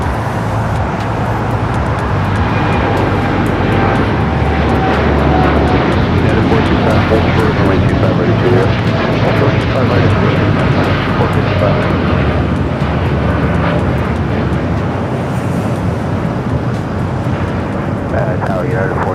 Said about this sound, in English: Dreamliner heading to Newark